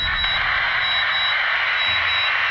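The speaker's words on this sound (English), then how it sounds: "Beeping, clicking, distorted sounds." Harsh, static-filled electronic noise from the game Starfield with a thin steady tone, clicking and faint intermittent beeps, like a distorted radio transmission, continuous and fairly loud.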